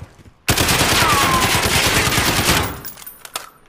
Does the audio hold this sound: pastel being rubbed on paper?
no